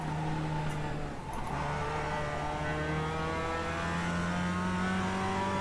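A Mazda MX-5 race car engine in the iRacing sim at the Charlotte Roval drones steadily at high revs, its pitch climbing slowly with a brief dip near the start, alone and with no talk.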